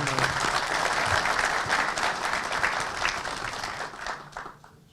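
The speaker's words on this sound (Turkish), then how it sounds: "Bir alkışta bunlara yapın." Audience applause at a Turkish chamber of commerce gathering, a loud sustained wash of many hands clapping that thins and fades out toward the end, with no talk over it.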